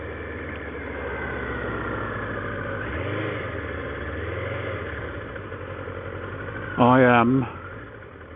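A vehicle engine idles at the start of a ride, a low steady rumble running beneath someone talking, with a brief brighter burst near the end.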